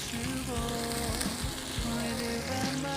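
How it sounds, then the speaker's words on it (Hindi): Sliced onions frying in hot oil toward golden for a chicken tikka biryani masala, a dense continuous sizzle up close with faint stirring knocks and tonal background hum. "इसको हम फ्राई करेंगे गोल्डन होने तक कि ये गोल्डन अच्छा सा कलर आ जाए"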